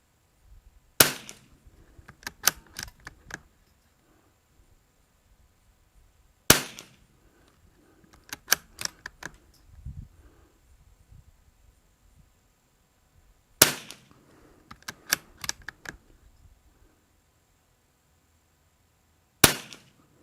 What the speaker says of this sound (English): We're going to go 5 rounds to warm it up on the 1-inch target